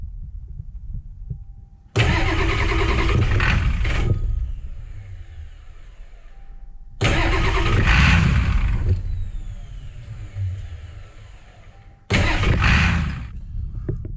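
A 7.3 IDI diesel truck engine cranks and fires in three loud bursts, each catching briefly with a rough throbbing idle before fading. The engine is suffering fuel leaks from loose injector cups and a stalling problem.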